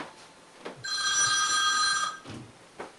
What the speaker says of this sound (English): What a bad time to get a phone call.